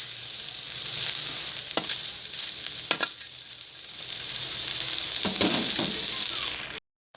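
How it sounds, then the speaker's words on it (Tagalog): Pork frying in a pan for pinakbet: a steady, close sizzle with a few clinks of a utensil stirring against the pan, ending in a short silence. "Ayan, nagigisa na po tayo ng ating pork."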